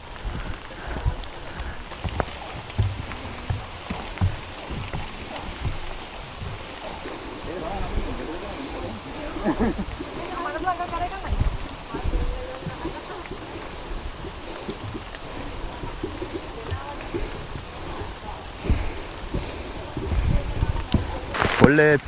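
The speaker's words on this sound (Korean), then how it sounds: "지금 빗줄기가 굉장히 굵어졌습니다" Heavy rain on a mountain trail at Hallasan during a strong rainstorm, a broad steady wash of falling water and wind with scattered rustles and footsteps, heard under someone talking throughout.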